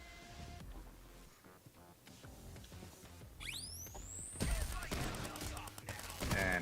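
Gunfire in a heist video game, a burst of shots followed by more rapid firing with game effects and background music underneath.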